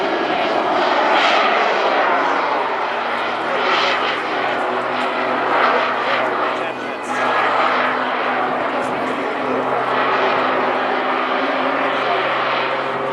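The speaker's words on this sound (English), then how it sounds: "very shortly he'll ignite the 2 Ltr Jet engines by the side of the Airshow" Jet-assisted Pitts aerobatic biplane with small jet engines at the Eastbourne Airshow, giving a loud, continuous aircraft engine roar throughout that swells and dips slightly, with crowd noise or commentary mixed underneath.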